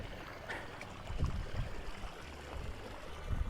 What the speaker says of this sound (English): a lot more water pouring into this ditch right here from underground